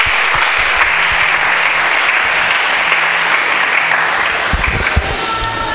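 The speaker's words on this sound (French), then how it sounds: "Est-ce que tu peux acclamer pour l'Éternel?" A church congregation at a French-language service bursts into sustained, loud applause, a dense steady roar of many hands clapping that fills the room without pause, with faint sounds underneath.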